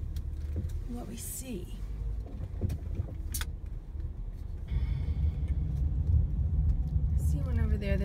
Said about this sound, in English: I am going to drive us around back